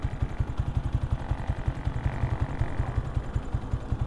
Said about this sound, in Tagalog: Although tunog helicopter pa din naman, pero iba yung pagkatahimik niya, tsaka sobrang nabawasan talaga yung vibration ng motor natin.